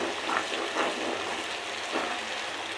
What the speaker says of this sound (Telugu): ఈ మసాలా కొంచెం గోల్డెన్ బ్రౌన్ కలర్ వచ్చేదాకా ఫ్రై చేసుకోవాలన్నమాట.